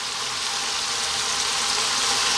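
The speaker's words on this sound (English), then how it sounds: "What we're going to do now is drop in our diced onion" Diced red onion hitting a hot pan and sizzling steadily, a dense even hiss that holds at the same loudness throughout, close up and alone with no talking.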